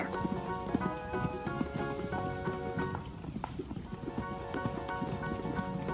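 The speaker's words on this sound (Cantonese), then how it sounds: "horse" Horse hooves clip-clop in a quick, steady rhythm of close, distinct strikes, with an occasional snort mixed in.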